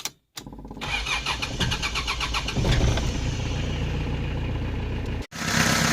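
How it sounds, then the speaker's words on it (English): A Mitsubishi 4D56 diesel engine fitted with an electric fuel pump cranks with a whirring starter, catches, and settles into a loud, steady idle, close by; a brief cut near the end. "So now let me start this engine and I will show you what I mean."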